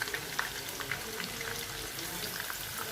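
Cauliflower pieces sizzle and bubble steadily in hot fat in a pan as they are turned, a close, continuous frying hiss with small crackles and occasional soft clicks.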